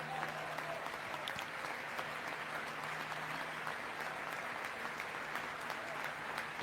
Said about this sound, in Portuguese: Republicanos aplaudem de pé